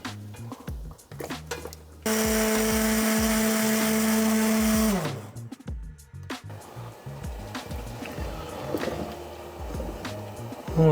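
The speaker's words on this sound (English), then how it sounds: "we're just going to blend this" A blender purees simmered red lentil coconut soup with sweet potatoes, a loud, steady high whir running for about three seconds then winding down, amid clinks and kitchen handling noises before and after.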